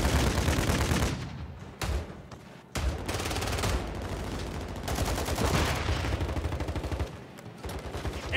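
Call of Duty MW3 gunfire from a DG-58 LSW loadout: loud, rapid automatic bursts, close up, broken by a few brief pauses over about eight seconds, with no voices.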